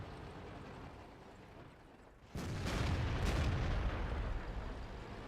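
A tank shell striking a tank's tracks in World of Tanks, a sudden loud impact boom followed by a sustained heavy rumble of engine and metal mechanisms, with no talking.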